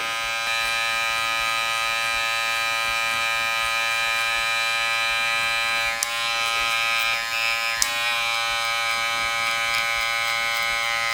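Electric hair clippers run steadily at close range while fading thick hair, giving a continuous high-pitched buzz with a lever moving between open and closed positions and a couple of brief clicks partway through.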